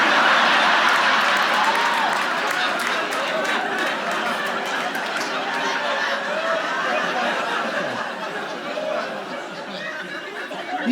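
Small comedy club audience at a stand-up special gives a thin, steady round of applause mixed with scattered chatter and chuckles, fairly close and continuous throughout.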